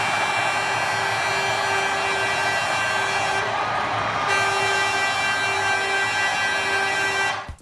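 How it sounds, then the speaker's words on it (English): New York Islanders' new arena goal horn, a train-style multi-tone blast that sounds steadily for about seven seconds with a brief dip midway, alone and loud before stopping abruptly. "here's the new goal horn"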